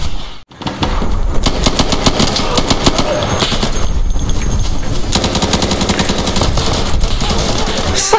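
Gunfire in the shooter game Insurgency rattles loud and close, a sustained rapid automatic burst after a brief pause near the start, the shots running almost continuously to the end.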